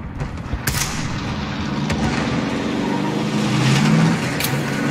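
A car driving in Call of Duty Warzone, a steady engine drone that rises gradually, with a few sharp cracks of distant gunfire over it.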